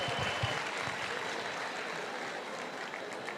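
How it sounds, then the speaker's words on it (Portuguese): A large crowd at a university gathering applauds the new UERJ rector, dense and fairly even clapping with some louder claps near the start, easing slightly toward the end. "Eu queria uma salva de palmas para o novo reitor da UERJ"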